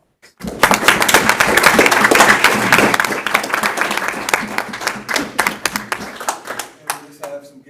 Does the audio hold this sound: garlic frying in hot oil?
no